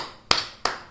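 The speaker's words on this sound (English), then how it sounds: "Give a clap" Two sharp, close claps roughly a third of a second apart, given during an online Active Directory training class.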